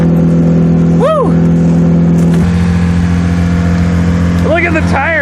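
A Buick Iron Duke engine roars close and loud during a cold-start burnout, holding a steady high drone, then swooping up and down in several quick revs while voices talk over it.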